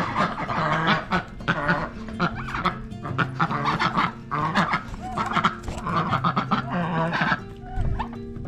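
Ducks on a hobby farm honk and quack loudly and repeatedly, a close, busy chorus of overlapping calls with barely a pause, with no talk.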